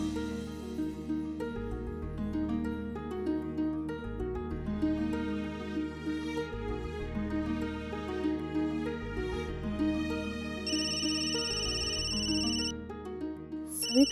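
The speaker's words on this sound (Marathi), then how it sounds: "सविता मावशीचा फोन" A phone rings with an incoming late-night call, a melodic ringtone repeating its tune steadily for many seconds, clear and moderately loud with no voices over it.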